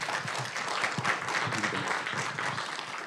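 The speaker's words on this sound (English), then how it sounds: "Let's give them a round of applause." Applause breaks out in a county Board of Supervisors meeting room, moderate and somewhat thin clapping with a faint murmur of voices beneath, continuing steadily for a few seconds.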